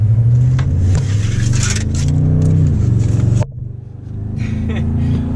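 A 2019 Toyota Tundra TRD Pro engine accelerating, a loud low drone that climbs steadily in pitch, breaks off abruptly as if shifting, then resumes rising, heard from inside the truck.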